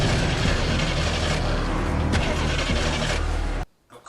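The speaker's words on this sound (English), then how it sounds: "Of course the car motherfucking breaks down" Car engine cranking and sputtering without catching in a TV drama scene, a loud dense mechanical churn lasting several seconds before cutting off abruptly into near silence.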